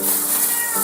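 House cat meowing: one close, loud, drawn-out meow lasting under a second, with no other sounds.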